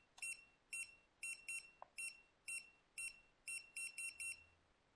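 Hubsan Zino HT016 drone controller emitting sharp, high electronic beeps in short bursts, singles and quick doubles and triples, repeating across the whole stretch during stick calibration, with no talk.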